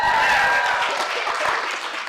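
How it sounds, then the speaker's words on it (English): Audience applause at a college elevator pitch competition, a dense wash of clapping that stays fairly steady and loud for about two seconds, with no speech over it. "Let's give her a big round of applause."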